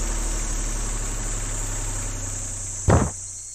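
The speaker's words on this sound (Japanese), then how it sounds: "キーを回してエンジンを吹かす" A truck engine idles with a low steady rumble, then briefly revs with a sharp loud surge near the end before settling back down.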